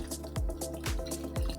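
Water and allulose mixture poured into a slush machine, a liquid stream with several quick drips and plops landing in a regular rhythm, close and fairly quiet, with no talking.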